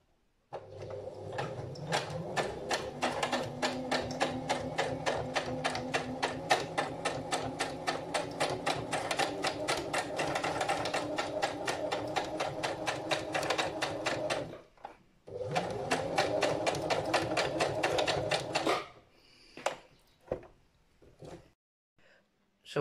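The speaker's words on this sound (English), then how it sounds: "then you sew these three edges closed" A sewing machine stitches the edges of a homemade fabric face mask in fast, rapid mechanical clatter, running steadily up close, pausing briefly, then resuming before trailing off into a few scattered clicks.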